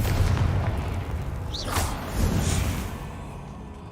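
The Confringo fire spell in Hogwarts Legacy hits with a deep, rumbling boom under a rushing whoosh and a brief bright crackle, loud and sustained before trailing off.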